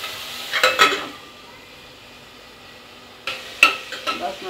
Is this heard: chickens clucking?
no